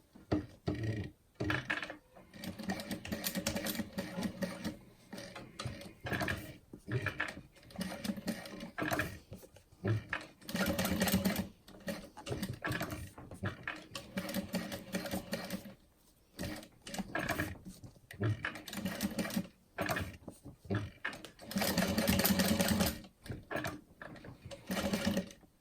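A sewing machine stitches a fabric frame in repeated runs of rapid mechanical clatter, broken by brief pauses between bursts, close and loud.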